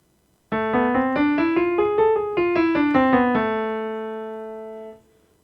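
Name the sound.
piano playing harmonic minor scale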